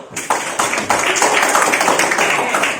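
A classroom group applauds after a presentation, dense and fairly loud clapping from many hands that continues steadily for a few seconds.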